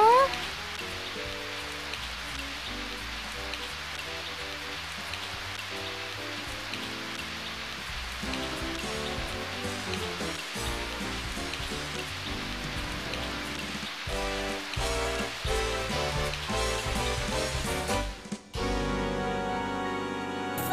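Rain falls steadily outside in an animated scene, an even hiss of drops continuing for most of the stretch under intermittent voices before cutting off abruptly near the end.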